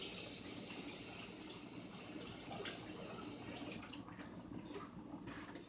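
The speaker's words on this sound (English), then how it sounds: "So let me grab that spoon and wash it" Tap water gushes steadily to rinse a tasting spoon in a home kitchen while chicken chili cooks, a continuous close, fairly loud stream that holds level before easing slightly near the end.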